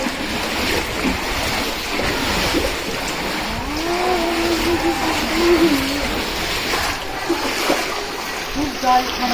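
A stream runs through the dark Robber's Cave near Dehradun, its steady rushing wash filling the space close by while people talk over it throughout.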